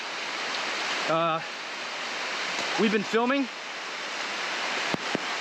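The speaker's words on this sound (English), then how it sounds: "Right now it's pouring rain." Heavy rain pours steadily in the Darien Gap jungle as a broadband wash of noise, with someone speaking briefly over it and a few sharp knocks near the end.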